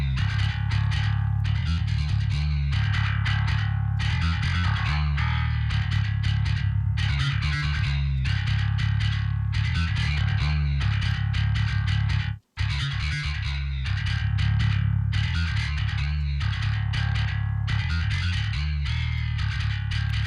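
A thick, heavily distorted bass guitar tuned to double drop C through Neural DSP Fortin Cali Suite and Parallax plays continuously, gritty and loud, with a brief dropout about two-thirds through before it carries on.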